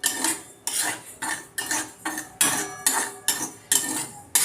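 Barnyard millet roasting in a pan for a fasting puri, stirred with a metal spoon: repeated bright scraping strokes in a steady rhythm, about ten close, clear passes with no talk.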